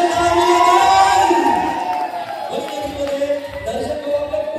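A crowd at a song launch party cheers and whoops loudly over sustained musical tones, a dense, close wash of voices and noise that carries on throughout.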